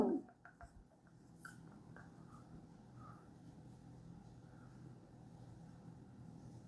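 A pen writes by hand on paper in quiet, close, faint scratching strokes, with a few brief louder taps at the start over a soft room background.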